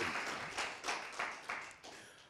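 An open mic night audience claps in short, uneven bursts that rise and fade several times, fairly distant and moderately loud.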